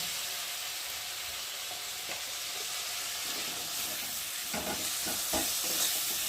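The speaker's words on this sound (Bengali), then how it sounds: "মশলাটা ভালোভাবে কষিয়ে নিই" Spice paste with tomato, chili powder and salt sautéing for a rui fish curry, a continuous close sizzle with a few scraping stirs of a spoon against the pan near the end.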